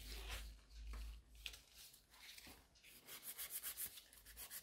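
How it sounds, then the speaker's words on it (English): Nail file working over a coffin-shaped gel nail extension, giving soft, fairly faint rubbing strokes that speed up into a quick, even back-and-forth rhythm near the end, with no talking. "that's basically the filing done on this nail"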